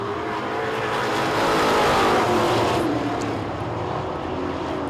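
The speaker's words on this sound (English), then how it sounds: "Michael Blount holding off the 0-2 machine of Tyler Turvin" Street stock race cars roar past on the Cochran Motor Speedway oval during championship heats, a loud engine rush that swells toward the middle and fades slightly as the pack passes.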